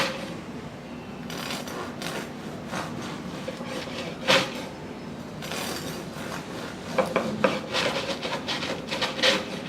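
A serrated 10-inch Vie Belles Reserve Series bread knife saws through a thin slice of bread, giving a steady close rasping scrape with a few sharper crunchy strokes near the end.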